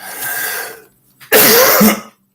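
A single loud, harsh cough close to the microphone, preceded by a raspy breathy exhale.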